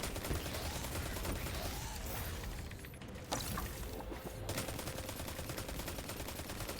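An enemy fires at a wall in a Concealed Void Master Lost Sector in a video game, a continuous, loud barrage of rapid gunfire with one brief sharp burst partway through.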